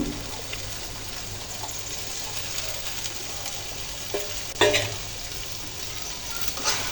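Small fish frying and sizzling in a tomato masala in a pan, a steady soft hiss with occasional brief stirring clinks and crackles, no talking.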